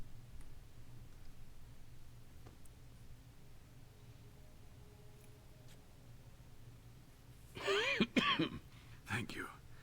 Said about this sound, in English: He's got a cough too.